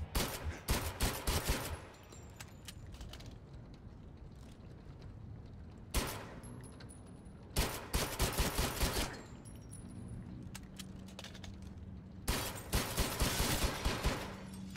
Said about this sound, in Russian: Патрис вот-вот выстрелит